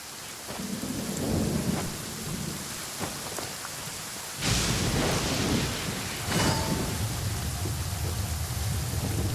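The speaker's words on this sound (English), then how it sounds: "It's raining again?" Steady rain falls on surfaces while thunder rolls and cracks repeatedly, with sharp booms around the middle that die into long rumbles, fairly close and loud.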